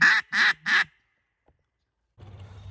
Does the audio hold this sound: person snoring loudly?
no